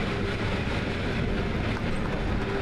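Rumbling, rattling railroad cars of the Cass Scenic Railroad roll steadily past close below, a continuous heavy clatter with no voices.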